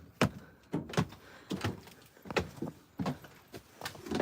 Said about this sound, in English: Okay, let's go in the RV. Here, you go in. I'll close the door.